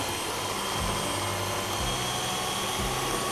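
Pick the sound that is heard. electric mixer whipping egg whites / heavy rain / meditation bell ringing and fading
electric mixer whipping egg whites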